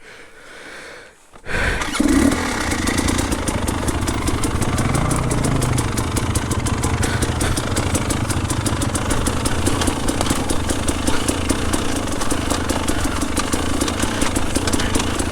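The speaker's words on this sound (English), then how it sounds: "Oh, 4-stroke time. 4-stroke hard enduro." Four-stroke hard enduro motorcycle engine idling and running steadily close by after a brief quiet start, with a continuous low mechanical drone and some clatter throughout.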